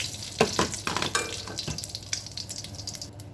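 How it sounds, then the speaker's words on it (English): Shrimp frying in a pan for a budget Chinese lo mein, a close, bright sizzle with a few quick clatters of stirring at the start, no talk. "I'm going to cook the rest of my shrimp"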